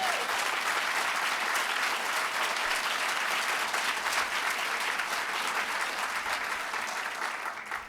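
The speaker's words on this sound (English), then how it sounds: "How about another round of applause for Governor Cuomo?" A crowd applauds Governor Cuomo at a transportation funding announcement, a broad, sustained roar of clapping that stays steady and dense for several seconds before thinning slightly at the close.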